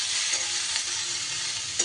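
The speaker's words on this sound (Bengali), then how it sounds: "এবার আলুর সাথে নাড়িয়ে চাড়িয়ে একটু ভাজা ভাজা করে নিতে হবে" Potatoes and yardlong beans stir-fried in a pan give a steady, bright sizzle with faint scraping of stirring, close and continuous for a short moment.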